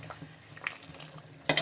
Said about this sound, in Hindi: बड़े बड़े उबाल आ रहे हैं हमारे सूप में